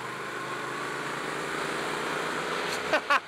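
A Triumph Speed Twin, a small Bonneville-style motorcycle, drones at a moderate, steady pitch while riding, then a few brief, sharper bursts near the end cut through the engine tone.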